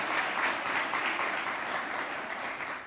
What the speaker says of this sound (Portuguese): Aplaude esse hino de Nossa Senhora